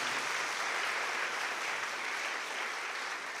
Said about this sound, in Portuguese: Pode aplaudir o pessoal de casa.